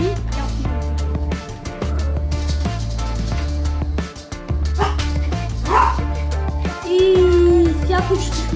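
A pet dog barks and yips repeatedly indoors, loud and close, with some whimpering between barks over a constant low engine-like background hum, and the barks come in irregular bursts.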